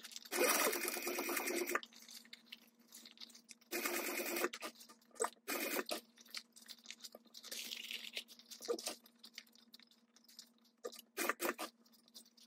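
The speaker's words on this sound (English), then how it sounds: "Back stitching over the strap as well on this side." A sewing machine back-stitches over a strap on a pouch, running in several short whirring bursts with pauses and small clicks of handling between them, close and fairly quiet.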